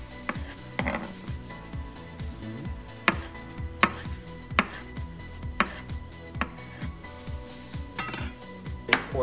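A knife slices food into very thin pieces on a cutting board, tapping in a quick, regular rhythm with a few louder knocks, close and clear with no talking.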